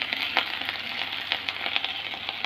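Amla chutney ingredients frying in a pan: a continuous close sizzle with small crackles and pops scattered through it, steady and moderately loud, with no voices.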